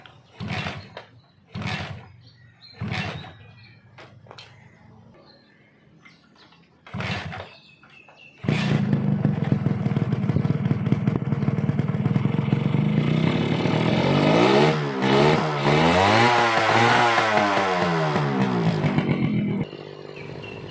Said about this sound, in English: My morning exercise is starting up this bloody motorbike